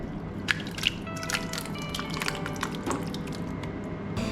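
Thick beef madras curry sloshes and drips wetly as it is tipped from a pan into a slow cooker, with soft squelches and a few sharper splatty drops close by.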